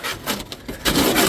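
Hand sanding a boat hull, brief rough rasping strokes, close and fairly loud, with an uneven rhythm of two or three passes.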